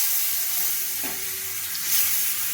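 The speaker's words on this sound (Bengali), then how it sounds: "এবার আমি আলুগুলোকে ভেজে নেব" Potatoes frying in hot oil in a wok, a steady close sizzle and hiss running throughout with light stirring, no voices.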